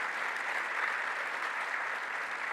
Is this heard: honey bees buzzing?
no